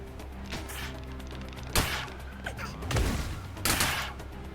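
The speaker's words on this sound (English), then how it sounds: "So now this is the air gun," A charging cap-gun-style air gun in a video game fires in sharp bursts, three loud whooshing blasts with build-up between them, heard close over a low background.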